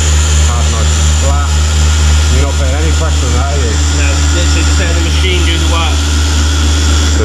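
A machine polisher cuts and polishes the paint on a black Honda Civic FN2 Type R, a loud steady motor drone with a constant hum running under voices talking throughout.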